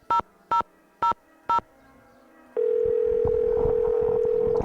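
In a Nancy Drew game, four short electronic beeps sound at even intervals, then a steady telephone dial tone hums loud and unbroken.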